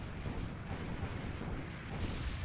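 Heavy carronade cannon fire in a naval battle video game comes as a dense, continuous rumble. Low booms overlap each other, and a few louder bursts stand out, including one near the end.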